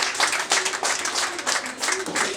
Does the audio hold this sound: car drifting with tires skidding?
no